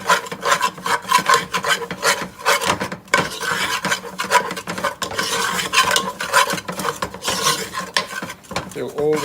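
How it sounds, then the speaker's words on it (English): Flour is stirred in a pot while making bechamel, the spoon scraping and rasping against the pan in quick, continuous strokes, close and fairly loud. "and stir it"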